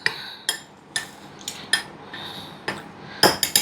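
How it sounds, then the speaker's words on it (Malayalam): A spoon stirs dry custard loaf cake ingredients with a pinch of salt in a bowl, giving a run of sharp, close clinks against the bowl at a fairly regular pace, ending in a quicker cluster of taps. "ആദ്യം സ്പൂൺ കൊണ്ടൊന്ന് മിക്സ് ചെയ്ത് കൊടുക്കാം."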